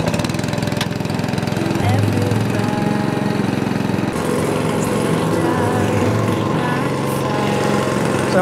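A petrol lawn aerator engine starts with a jump in level partway through, then runs steadily at a mid-pitched idle, close and loud under some background noise.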